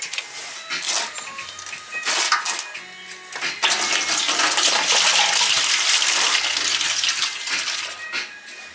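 Coolant drains from a Nissan 350Z engine during motor removal, a steady loud rush of splashing liquid that builds after a few broken spurts and runs continuously for several seconds before tapering.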